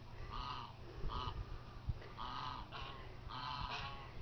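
A goose honks repeatedly outdoors, with about six loud, nasal calls at fairly close range separated by short pauses, over a low background rumble.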